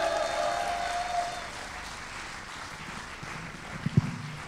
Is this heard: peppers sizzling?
no